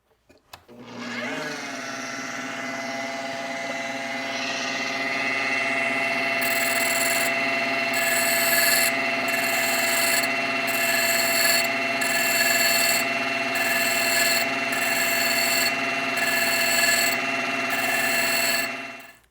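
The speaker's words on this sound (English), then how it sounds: "Next, I'll use a 200 grit, and this will refine the edge of the cup." A motorized sander whirs steadily with a tonal hum while the edge of a cut wine-bottle glass grinds against 200-grit abrasive, with rhythmic pulses of scraping every second or so.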